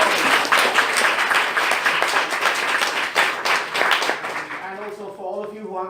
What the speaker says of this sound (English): please a round of applause for Vanessa.